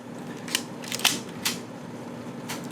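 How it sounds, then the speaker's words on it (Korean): Nikon F3/T film camera shutter release in bulb mode, several short crisp mechanical clicks spaced apart, close and fairly quiet, with no talk. "벌브 셔터 같은 경우는 셔터를 자 예를 들어서 한번 보여드릴게요"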